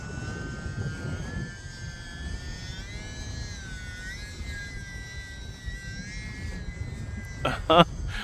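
A UMX Turbo Timber RC airplane flies outdoors in wind, its electric motor whining steadily and rising and falling in pitch as it maneuvers, with gusty rumble underneath and a faint voice near the end.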